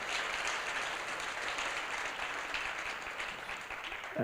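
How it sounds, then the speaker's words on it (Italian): An audience applauds at a live storytelling talk, steady clapping from many hands that holds evenly for several seconds at moderate distance, no voices over it. "quando volete applaudite, tanto è gratis, quello non costa"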